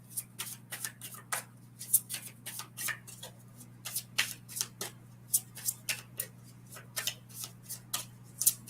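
Oracle cards shuffled by hand up close, a quiet, quick series of crisp riffling flicks repeating steadily over a low hum, with no talking.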